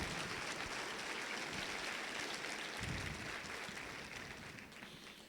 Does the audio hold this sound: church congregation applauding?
yes